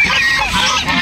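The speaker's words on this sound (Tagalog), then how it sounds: "Ayan yung mga hybrid turkey." Hybrid turkeys give loud, nasal, honking calls close by, in a quick run of overlapping cries filling about a second.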